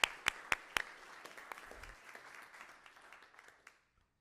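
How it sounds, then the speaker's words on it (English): Audience applause at a school board meeting: a few loud, sharp claps up close open a spread of lighter clapping that thins out and fades to silence. "So give them a big round of applause."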